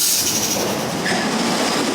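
A Bullet Train ride at a state fair rushes by with a steady, loud rumble and rail clatter, a brief squeal rising partway through; no voices are heard.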